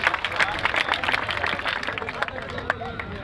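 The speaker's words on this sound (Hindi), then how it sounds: "जोरदार ताली के साथ स्वागत करिए।" An audience at a public rally for Suheldev Jayanti claps in welcome for a speaker, a dense, steady patter of many hands sustained throughout, with crowd murmur mixed in.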